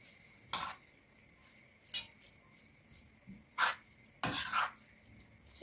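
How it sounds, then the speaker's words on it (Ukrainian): A spoon stirring millet in a pot with a few sharp clanks against the metal, then a lid set on top, about five distinct knocks spaced irregularly over a quiet background. "Все добре перемішую, довожу до кипіння, накриваю кришкою і тушкую до готовності пшонки на маленькому вогні."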